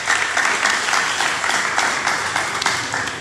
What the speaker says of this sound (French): Applaudir plus fort.